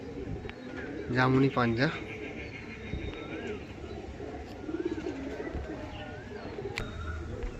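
Kolkata pigeons give soft, low cooing close by, one brief louder call standing out, under someone talking about the birds.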